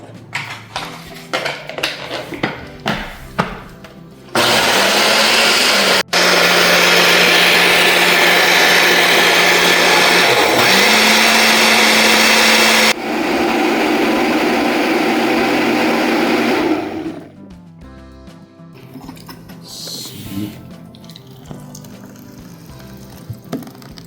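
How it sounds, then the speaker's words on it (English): Blender motor labors loudly through thick oatmeal pancake batter, a steady whining roar that runs for about twelve seconds, dips briefly once, then drops to a lower hum before cutting out. "It's not blending because it's so thick. Hopefully it does now."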